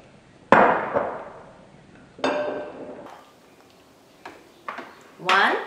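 Ice cubes drop into a glass for a bitter melon almond latte, a few separate bright clinks and clatters spaced out over several seconds, close and fairly loud, with speech nearby.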